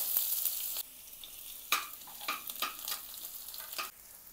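Chopped onions hit hot mustard oil with a bright, hissing sizzle, interrupted by a few sharp stirring clacks and scrapes that rise and settle over several seconds, heard close with no talking.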